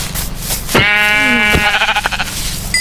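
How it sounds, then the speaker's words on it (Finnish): In the Minecraft video game, a sheep gives a single loud, wavering bleat lasting close to a second. It sits over steady game background sound and constant low noise. "Hei, tuolla on lammas."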